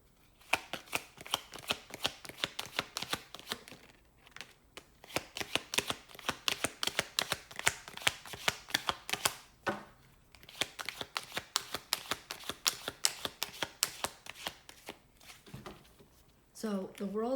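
Tarot cards are shuffled in rapid riffling bursts, crisp papery flutters repeating in long runs with brief pauses between, close and clear.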